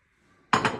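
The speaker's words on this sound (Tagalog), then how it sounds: "Meron tayong katulong sa paghuhugas ng pinggan" After a short quiet moment, dishes and cutlery clatter in a bright burst of clinking while a family clears up the plates after a meal with meat and vegetables.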